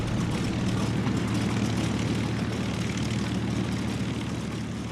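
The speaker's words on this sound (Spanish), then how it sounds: "aviones lanzados desde portaaviones" Steady low drone of propeller aircraft launched from aircraft carriers in a World War II setting, a continuous loud engine roar that holds evenly throughout with no voices.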